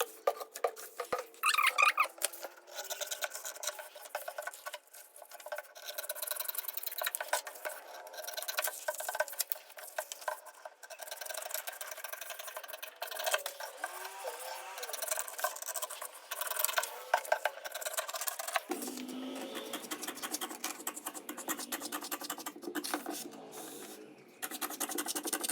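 Scissors cutting waistcoat fabric along drawn pattern lines, a steady close run of crisp snipping and rustling that continues without a break, with fabric handling noises mixed in.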